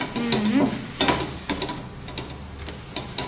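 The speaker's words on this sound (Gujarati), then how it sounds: "આ પાણી લઈ લીધું, થોડું તેલ એડ કરી દીધું એમાં. એટલે આપણે આ કોટનનું કપડું લઈ લીધું અને તવી આનાથી ઠંડી કરવાની છે" A hot iron tawa for Mysore dosa is wiped with a cotton cloth dipped in water and oil, giving a close, crackling sizzle with a run of regular scraping, swishing strokes.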